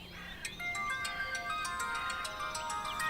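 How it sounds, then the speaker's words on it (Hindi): A melodic phone ringtone plays, bright tones chiming in a repeating pattern, moderately loud and without voices. "फोन किसका है?"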